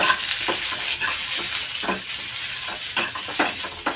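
Onion fries in hot oil for a simple tomato saaru, a loud steady sizzle with repeated scraping stir strokes against the pan. No speech is heard.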